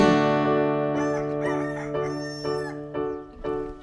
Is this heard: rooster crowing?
yes